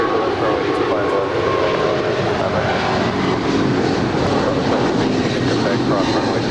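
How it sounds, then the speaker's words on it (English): A 25-year-old United Boeing 777-200ER departing LAX for Newark, a loud continuous jet engine roar with broadband rushing noise that holds steady throughout, with no clear talking. "there goes United 2335 off to Newark, 25-year-old 777-200 ER"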